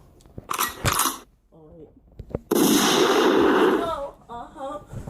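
Gunshot sound effect played from a sound button, a sharp bang followed by a long loud burst of noise, with people talking and laughing before and after.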